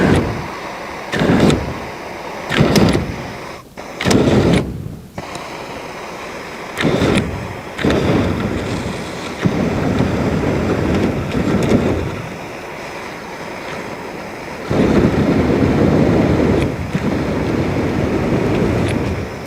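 An XM42 personal flamethrower shoots burning napalm in loud, roaring bursts, several short blasts and then longer sustained rushes, with wind buffeting the microphone throughout.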